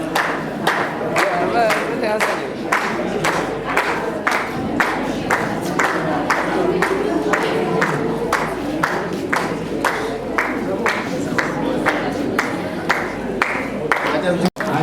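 Wedding guests clap together in a steady, rhythmic beat that holds for the whole stretch, with crowd voices mixed in.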